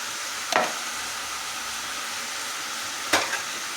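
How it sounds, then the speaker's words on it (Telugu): Ginger and garlic tossed into beans in a hot pan, a steady sizzle punctuated by two sharp scraping stirs a few seconds apart, no talking. "ఇందులోకి కొంచెం అల్లం వెల్లుల్లి వేసుకుందామండి."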